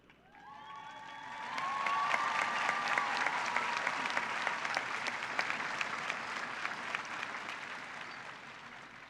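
An audience at a 2021 high school graduation ceremony gives a sustained round of applause for a graduate's parents, swelling after a couple of seconds into steady, dense clapping that carries on alone.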